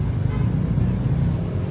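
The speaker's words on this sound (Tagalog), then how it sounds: "Medyo maingay lang tayo kasi, ayan o. Maraming patok na jeep dito." Highway traffic with many jeepneys passing, a continuous low engine rumble that rises and falls, close and fairly loud, with no clear voice over it.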